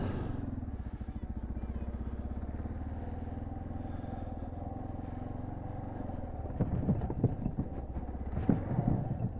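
A Kawasaki KLR650 adventure motorcycle idles and rumbles steadily, then revs and clatters as it jumps over wooden pallets on an off-road obstacle course, with several sharp knocks near the end.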